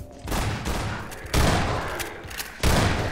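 Gunfire in the shooter game Half-Life 2: Episode One, several loud bursts of rapid shots with booming impacts, rising and falling in waves over a few seconds.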